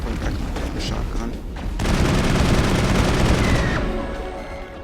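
Shotgun fire in the Mass Effect video game: a rapid burst of heavy, overlapping blasts surges up and holds loud for about two seconds, then tails off into quieter combat noise.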